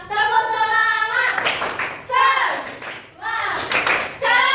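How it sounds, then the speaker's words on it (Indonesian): A classroom of children performs a rhythmic spirit clap, bursts of patterned clapping interleaved with children's voices chanting and speaking between the claps, close and fairly loud. "Tepuk semangat."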